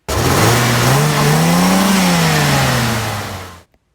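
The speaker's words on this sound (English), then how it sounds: "His foot stamped down on the accelerator and the car dramatically sped up to 25 miles per hour." A car engine revs hard and accelerates close by, its pitch climbing then easing off over a few seconds before cutting out abruptly.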